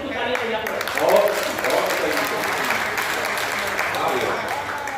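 Audience at a poetry recital clapping steadily for five seconds, a dense, even wash of many hands with a slight swell near the start, with a voice murmuring faintly beneath.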